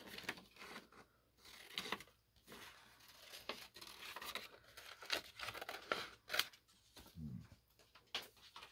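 Scissors snipping through paper to cut out a decorative piece for a junk journal, irregular crisp cuts and paper handling close by, with no talk.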